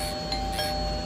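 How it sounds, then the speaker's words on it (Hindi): A doorbell gives two quick chiming rings in a room, moderately loud, each tone ringing briefly before fading, with no one speaking. "कोई घंटी बजा रहा है और तुम दरवाजा नहीं खोल रहे हो?"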